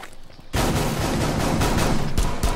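Rapid gunfire in the video game Rainbow Six Siege erupts after a quiet half second, then continues as a loud, dense stream of shots with a few heavier bursts toward the end.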